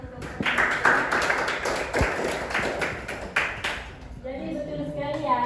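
Scattered clapping from a classroom of students during a lesson on ecosystems, a burst of claps fading after a few seconds into a speaking voice.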